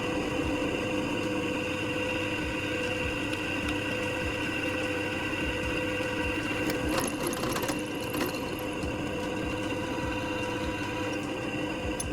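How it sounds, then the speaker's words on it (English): A drill press bores two holes through a broken steel wrench in a welding workshop: a steady, loud motor whir runs throughout, with brief harsher grinding bursts around the middle as the bit bites into the metal. "I'm using a drill press to create those 2 holes I just marked."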